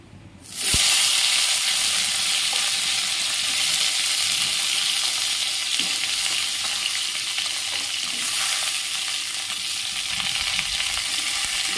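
Dried red chilli and nigella seeds fry in hot oil in a kitchen pan, making a loud, continuous close-up sizzle with occasional crackles that starts abruptly and holds steady throughout.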